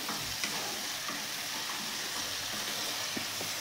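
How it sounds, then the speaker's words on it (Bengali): Spice masala cooking with sour yogurt in a pan for a yogurt chitol korma, a soft, steady bubbling sizzle with a few faint stirring taps, low in level and without voices. "এই মশলাটাকেও ভালো করে কষে নেব আমি।"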